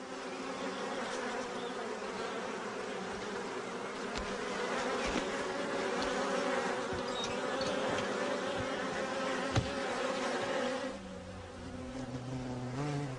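Bees and hornets buzz around their nests in Europe, making a steady, droning hum of many insects close by that continues throughout.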